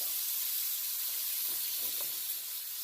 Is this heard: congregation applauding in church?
no